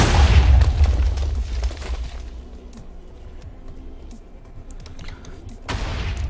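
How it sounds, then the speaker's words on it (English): Carpet bombing from Flame Breaths in a strategy video game sets off a heavy burst of booming explosions at the start, then a quieter rumble of scattered blasts, with another cluster of impacts near the end. "Carpet bombing by Flame Breaths."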